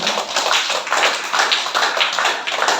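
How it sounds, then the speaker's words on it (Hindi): A live audience at a motivational speech gathering in Haridwar claps for themselves, a dense, steady round of applause lasting a few seconds with no talk over it. "चलो तालियां बजाओ अपने लिए"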